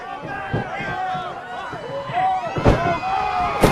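A wrestler crashes through a door during a heavyweight championship wrestling match, with several heavy slams and impacts, the last ones loud, under an excited commentator and a reacting crowd.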